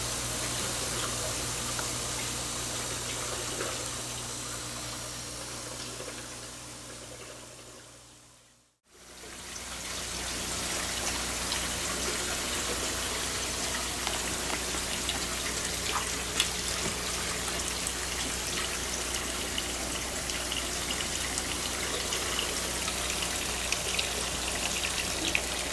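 Steady water pouring and trickling into a 125 gallon aquarium sump, fed through buckets on either side, a continuous close wash of flow with one brief dropout partway through.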